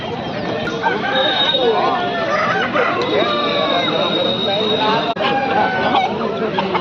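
Roosters crow repeatedly at an Aseel chicken market in Kundarapalli, Krishnagiri District, with several long calls from different birds over clucking and a constant crowd babble, and people talking throughout.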